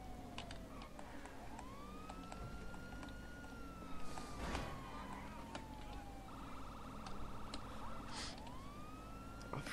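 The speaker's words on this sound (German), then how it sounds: "Wenn jetzt jeder mal auf meine Sirenen hören würde." A police car siren in the game LSPD:FR wails up and down in long sweeps, then switches briefly to a rapid yelp, over steady engine and road noise during a highway pursuit.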